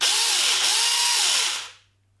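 A small battery-powered Huing mini chainsaw revs at a high, steady whine for about a second and a half, then spins down and falls silent, close and loud with no talk.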